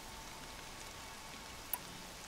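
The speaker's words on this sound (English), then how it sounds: "the animation of the rain falling on his head could have looked like sort of PS2 era" Rain falling in the Horizon Zero Dawn video game makes a faint, steady hiss throughout, with one brief click near the end.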